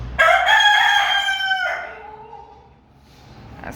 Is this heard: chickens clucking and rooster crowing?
yes